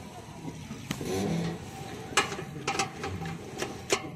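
A seed drill's gears turned by hand while oil is applied, giving rattling ratchet-like clicks and a short grinding whir, with someone talking quietly in the background.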